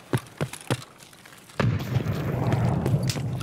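A grenade detonates in Escape from Tarkov with a sudden heavy boom, then a loud rumbling tail that carries through to the end, after three short sharp impacts earlier.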